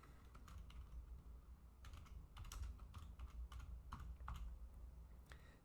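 A name typed on a computer keyboard, a quick uneven run of light key clicks, close and fairly quiet over a faint steady background hum, with no voices.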